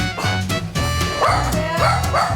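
A dog in a hair salon barks loudly and repeatedly at a water delivery man, giving close, harsh barks and yips in rapid succession with whimpering edges, filling the whole stretch.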